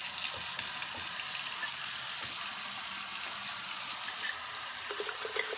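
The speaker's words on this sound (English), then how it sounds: "we need to wash all of our jars" Tap water runs continuously over mason jars being washed in a sink, a steady close rushing splash with faint clinks of glass, no voices.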